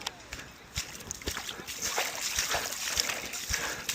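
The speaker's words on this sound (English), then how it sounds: "let's try and get this bike through the water, eh?" A bicycle is pushed through shallow water, with repeated close splashes and sloshing as wheels and feet churn through it, an uneven rhythm of splatters over running water.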